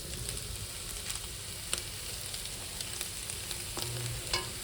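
Potato and egg bhaji frying in a pan on a home stove, a steady faint sizzle with scattered soft stirring clicks and scrapes throughout, no voices.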